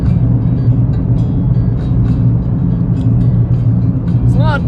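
Loud, steady road rumble and tire roar fill the cabin of a moving car on a noisy stretch of road near Palm Springs, constant throughout with no speech.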